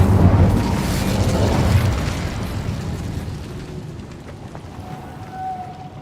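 The Incendio fire spell in Hogwarts Legacy bursts loudly with a deep whoosh and crackling roar that swells for about two seconds and then slowly dies into a faint hiss, with a small tonal chime near the end.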